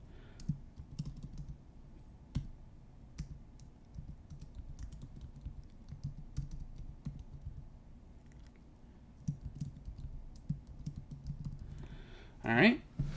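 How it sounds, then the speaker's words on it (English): Soft, quick keystrokes on a computer keyboard while typing into a password field, a steady patter of light clicks at low volume, with no talking. "Keep an eye on the text as we type in the password field"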